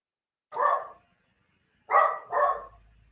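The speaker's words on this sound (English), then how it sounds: "I have a dog in the background in case you haven't noticed." A dog barks three times in the background, one bark, a pause, then two quick ones, moderately loud and otherwise alone.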